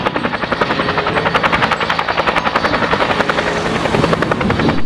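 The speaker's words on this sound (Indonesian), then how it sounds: "Wah, ternyata ini helikopter pemadam kebakaran." A red toy fire-fighting helicopter makes a loud, close, rapidly pulsing rotor buzz that holds steady throughout, with no talking.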